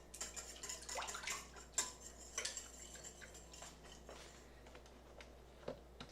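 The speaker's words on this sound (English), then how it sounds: "so I'm just gonna whisk it by hand" A flan mixture being whisked by hand in a bowl, giving faint, quick clinking and scraping strokes that are busier at first and then thin out into sparse taps.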